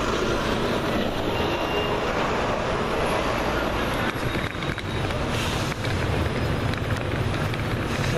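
Inside a train approaching London Euston station, a steady, loud rumble and roar of rolling wheels and carriage noise continues throughout, close and unbroken, with no clear talk.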